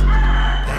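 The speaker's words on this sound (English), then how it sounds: "I heard a rooster outside." A rooster crows loudly and close by, one sustained call against a low steady hum.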